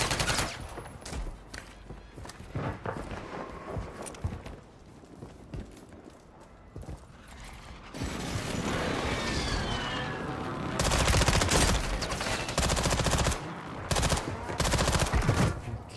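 Gunfire rattles in a video game match in dense bursts and single shots, mixed with footsteps and effects that grow louder and busier in the second half. Someone talks over the action.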